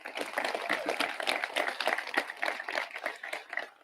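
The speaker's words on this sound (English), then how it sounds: "Yes, let's clap for him." Applause at a high school graduation ceremony for a student, steady crowd clapping of moderate loudness throughout.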